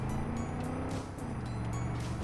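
A car in Far Cry 5 racing along at speed, its engine roaring steadily and close with a rough, continuous drone throughout.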